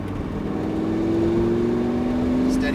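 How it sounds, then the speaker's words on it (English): A car accelerates on a cone-marked driving course, its engine drone steady and close with a pitch that rises gradually through the clip, a voice faintly over it. "let's accelerate to those yellow cones"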